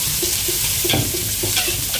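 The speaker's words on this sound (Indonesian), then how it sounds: "Lanjut ke cabenya juga ya, kita tumis juga. Kita tumis sampai bumbunya rada layu ya." Chilies and spice paste being stir-fried give off a loud, constant sizzle, with quick rhythmic taps and scrapes of the spatula against the pan.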